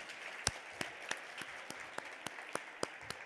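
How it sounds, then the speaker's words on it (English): Applause from an audience at an event, a soft crowd wash under a dozen distinct, fairly evenly spaced sharp claps, heard from some distance and quiet. "please join me in a round of applause to Carrie and her team for putting this video"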